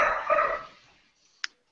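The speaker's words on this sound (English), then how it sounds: "I beat my dog when it starts barking" A dog barks nearby outdoors in a yard, a loud burst of barking at the start that fades out, followed by one short sharp yip.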